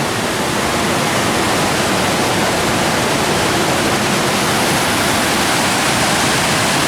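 Water rushing steadily down toward a main waterfall at Porcupine Mountains State Park near Lake Superior, a loud, unbroken broadband roar heard up close with no voices.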